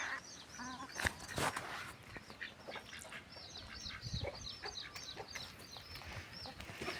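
Chickens and ducks cluck and honk in a busy, noisy flock, with scattered pecking and scuffling throughout as they eat jaggery.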